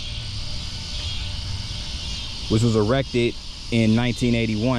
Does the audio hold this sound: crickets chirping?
yes